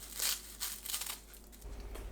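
Seasoned laver sheets sliced into thin strips with a knife, a few crisp crinkling bursts close by, spaced unevenly and quiet, with no voices.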